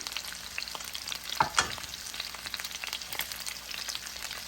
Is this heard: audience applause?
no